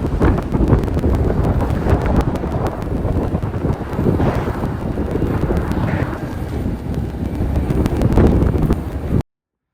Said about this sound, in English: So the wind has been blowing so terribly.